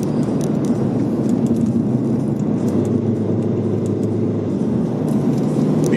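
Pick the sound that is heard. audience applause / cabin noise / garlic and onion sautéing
cabin noise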